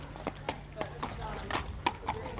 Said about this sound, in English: horses coming and going.